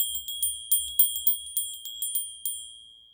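A small bell rings in quick, uneven strikes, about a dozen bright, close dings that each leave a short shimmering decay, alone with no voices.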